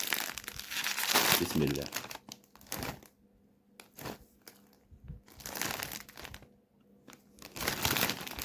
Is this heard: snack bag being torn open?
yes